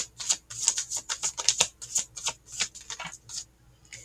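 Tarot cards shuffled by hand in a steady run of crisp riffling bursts, close and fairly quiet, with no talking.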